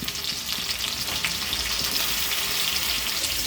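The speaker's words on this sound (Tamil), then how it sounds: "நல்லா வதங்கட்டும் வெங்காயம்" Small shallots sautéing in oil in a pan, a steady dense sizzle and crackle held at close range throughout, with faint scraping of stirring and no talk.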